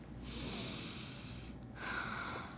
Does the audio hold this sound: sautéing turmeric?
no